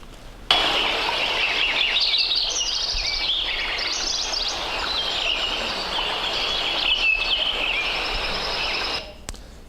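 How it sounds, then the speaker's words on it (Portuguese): Many birds chirp and sing in overlapping high calls over the soft, steady rush of a forest stream, with no talking. "nesse som aqui a gente consegue ver a assinatura dos passarinhos e a assinatura de um riacho"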